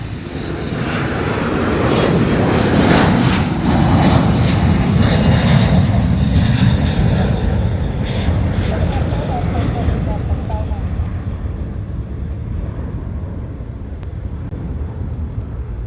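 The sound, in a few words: F-22 fighter jets, whiny engine noise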